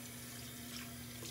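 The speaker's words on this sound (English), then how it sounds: "just rinsing that off my hands" Water running from a sink tap as skincare product is rinsed off hands, a soft steady splashing flow under a faint low hum, brief and quiet.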